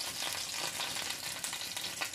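Onion frying in a pan for a German dinner, a steady broadband sizzle that stays loud and even throughout with no talking.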